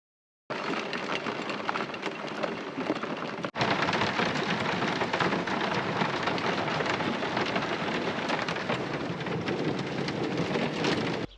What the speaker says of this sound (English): the thunder and the rain has passed